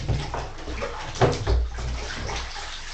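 An air filter is washed in a basin of water, giving close sloshing and splashing with a couple of louder surges as it is moved and dunked.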